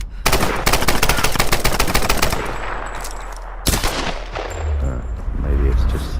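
Rapid automatic gunfire from the Tomb Raider video game, a loud sustained burst of closely spaced shots followed by a few heavier isolated blasts and lingering rumble.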